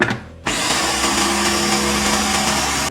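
A blender whirs loudly and steadily, mixing aquafaba butter with extra virgin olive oil and coconut oil. It starts abruptly after a brief quiet moment and keeps a continuous high-pitched motor drone to the end.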